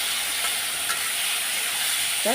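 Potatoes fry in a pan for a home-cooked chal kumra shak dish, giving a steady, even sizzling hiss throughout, with a brief voice at the very end.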